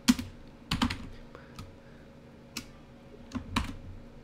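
Keys clatter on a computer keyboard while Python code is typed, coming in short irregular bursts and single taps with quiet gaps between, close and fairly soft, with no talking.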